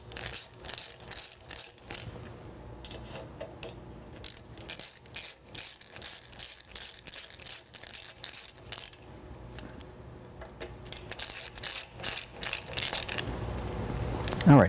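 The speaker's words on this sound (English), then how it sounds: "We'll go through and screw that into place." Screwing the bed extension latch onto the front of a Laguna Revo 1836 lathe gives a rapid, repeated ratcheting click, bursts of close mechanical clicking with short pauses between them.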